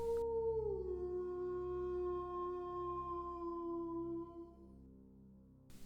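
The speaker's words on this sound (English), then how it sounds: "she throws back a massive head and howls" A single long, drawn-out howl from a dogman creature glides slowly downward over several seconds, clear and sustained above a low droning background.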